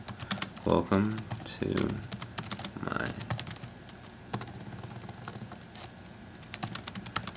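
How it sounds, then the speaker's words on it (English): Keystrokes on a computer keyboard tap in short bursts and scattered clicks, entering text for a Flash CS3 website, with a person speaking briefly near the start. "And then just type in some stuff."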